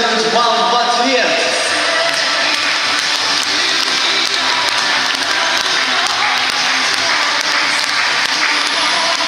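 Audience at a dolphin show in a Black Sea dolphinarium applauding in a sustained wash of clapping that fills the whole stretch, with a brief whistle or call near the start.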